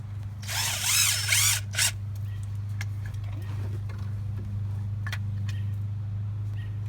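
A power drill drives a screw into pre-drilled holes in a mount for a DIY toilet with a mini septic tank, whining loudly in a couple of short bursts near the start, followed by faint ticks over a steady low hum.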